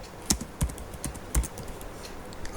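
Programming code typed on a computer keyboard: a handful of crisp, irregular key clicks, close and fairly quiet, a few louder taps spaced between softer ones.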